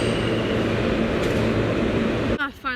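A train rolls past at close range with a loud, steady rumbling roar, constant through most of the stretch before it abruptly cuts off near the end.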